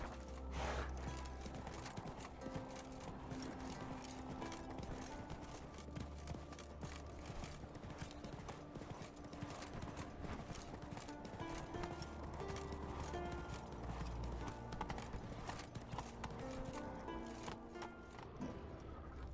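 Roach the horse in The Witcher 3 trotting steadily, with continuous clip-clop hoofbeats close by, a horse's neigh, and a dense game soundscape of music and ambience running throughout.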